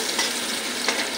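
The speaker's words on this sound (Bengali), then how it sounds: "দেখো আমার পেঁয়াজটা লাল লাল করে ভাজা করেছি" Chopped onions fry in hot oil with a bright, continuous sizzle and a couple of stirring scrapes, close and moderately loud, no voices.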